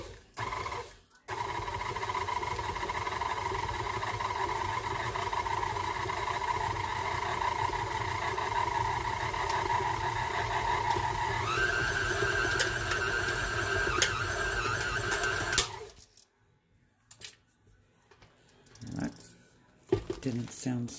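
An electric mixer creaming ingredients for Irish potato candy whirs steadily at close range, its pitch stepping up partway through with an odd faulty noise, before switching off into quiet kitchen sounds.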